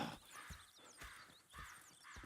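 Horses in the Red Dead Redemption 2 video game, with soft hoof clops and shuffling at a regular pace over ambient birdsong, mid-distance and moderately quiet, with no talking.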